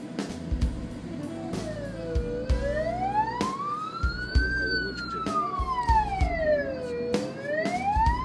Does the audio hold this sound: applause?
no